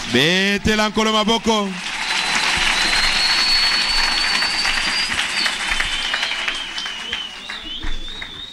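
A church congregation applauds and cheers loudly as a sustained, dense wash of clapping and voices, preceded by a short burst of singing or speech at the start.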